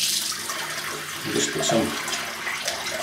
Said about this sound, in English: I'll throw some water on the top of the soap.